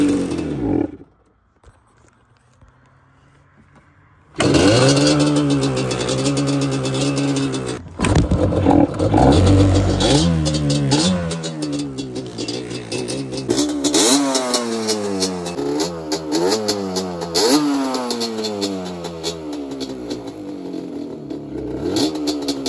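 A 2003 Yamaha Banshee with dirty carburetors, running only on choke, starts after a quiet gap and then revs hard again and again, a loud close rasping two-stroke note that climbs and falls repeatedly.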